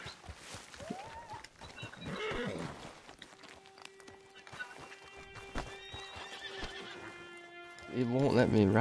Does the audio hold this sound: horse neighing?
yes